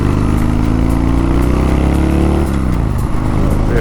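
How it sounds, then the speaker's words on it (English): A cheap Harley motorcycle engine runs choppy at quarter throttle, a loud close uneven drone with pulsing, irregular firing that rises slightly in pitch, then drops and stumbles near the end. "it's choppy at like quarter throttle, very choppy"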